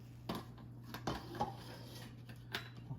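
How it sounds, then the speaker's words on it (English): A metal pot lid presses and clinks against a work surface while cutting circles from turmeric curry puff pastry dough, giving several light, separate taps and scrapes in a quiet kitchen. "We're gonna use a pot top right here to cut the circles."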